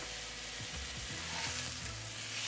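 Turkey and cheese sizzle and fry on a flat top griddle for a toasted turkey melt, a steady close hiss broken by a few soft scraping stirs, with no voices.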